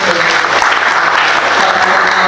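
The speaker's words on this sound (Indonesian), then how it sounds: "Tepuk tangan lagi" An audience applauds at a ceremony installing regional health association officials in Alor, a loud continuous wash of dense clapping with sharper individual claps throughout.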